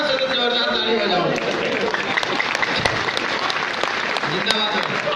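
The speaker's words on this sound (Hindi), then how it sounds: "सारा सब जोरदार ताली बजाओ" Loud applause from a kavi sammelan poetry-recital audience, a dense continuous wash of clapping lasting several seconds at steady volume, with some voices mixed in.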